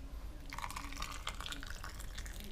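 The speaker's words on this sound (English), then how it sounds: "A little boiling water." Boiling water poured onto canned hot dogs, a soft trickling and dripping splash that runs steadily for a couple of seconds, quiet and close, with no talking.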